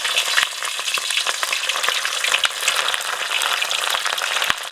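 Chicken pieces deep-fry in hot oil, a loud continuous sizzle with scattered crackles and pops, nearby and without talk.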